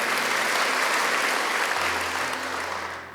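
A church congregation applauding together during a worship service, steady dense clapping that slowly fades as a low tone enters partway through.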